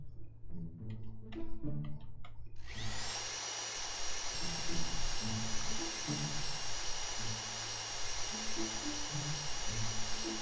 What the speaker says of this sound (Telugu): నా డ్రిల్ అయిపోయిందిరా, నువ్వు అది కొట్టావా?